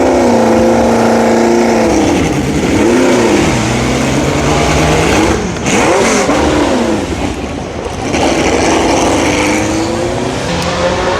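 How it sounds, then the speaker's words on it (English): A classic Formula 1 car at Goodwood revs loudly nearby, its engine pitch rising and falling through several gear changes before it pulls away, strong and continuous. "it's just classic F1 car driving away"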